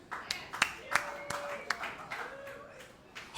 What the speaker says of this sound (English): What's up with the baby claps?